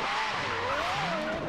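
A car accelerates in Forza Horizon 3 with a loud, close engine whine whose pitch rises, dips and climbs again over a steady roar, with other engines underneath.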